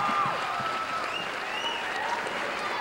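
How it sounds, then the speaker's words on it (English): Applause from the crowd at a 1997 high school senior skit show forms a steady, slightly distant wash of clapping, with thin whistles sliding over it throughout. "Let's give him another round of applause."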